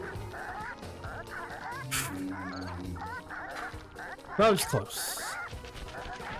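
Chickens in the video game Sly Cooper and the Thievius Raccoonus cluck and squawk in repeated, fairly loud bursts, with someone briefly talking over them.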